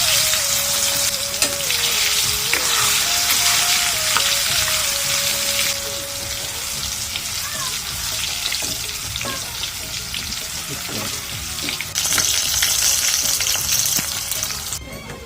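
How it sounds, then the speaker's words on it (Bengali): Raw jackfruit pieces frying in hot oil, a loud continuous crackling sizzle close by, with a bright surge near the end as more pieces go in and no talk. "সেই গরম তেলের ভিতরে আমি কাঁচা কাঁঠালগুলো দিয়ে দেবো"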